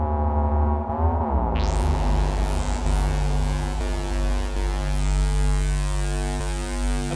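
A PO-14 Sub pocket synthesizer playing its seventh sound through a Korg NTS-1 with reverb: a deep, sustained bass drone that bends upward, then swells into a bright, buzzy wash with sweeping overtones.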